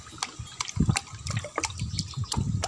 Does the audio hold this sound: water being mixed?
yes